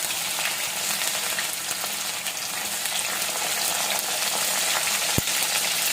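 Cumin and ginger-garlic paste frying in plenty of oil in a kadhai, a steady, close sizzle that holds evenly for six seconds, with one sharp click near the end.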